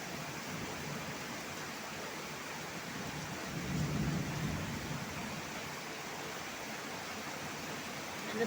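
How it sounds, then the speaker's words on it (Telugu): Heavy rain hisses steadily and close, with a low roll of thunder swelling briefly in the middle and no talking. "వర్షం బాగా వస్తుంది."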